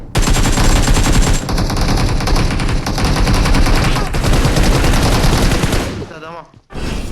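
Sustained rapid automatic gunfire rattles loudly and close in a video game shooter, dense bursts running for several seconds before cutting off near the end.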